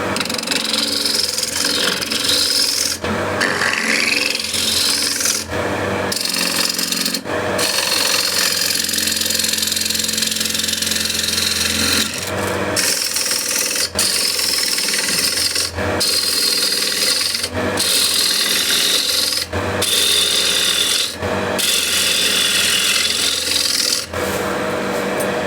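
A spindle gouge cuts wood spinning on a woodturning lathe, producing a loud, continuous scraping, rasping hiss over the motor's hum, broken by several brief pauses as the tool lifts off.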